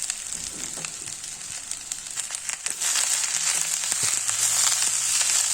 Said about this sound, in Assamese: লৰাই লৰাই মই কচু থুৰখিনি এনেদৰে ভাজিছোঁ